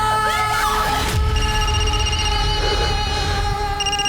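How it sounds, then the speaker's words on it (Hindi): A telephone rings insistently indoors with a sustained electronic ringtone tone that carries on unanswered, set against steady background music. "देख क्यों नहीं रही किसका फोन है? कब से बजे जा रहा है"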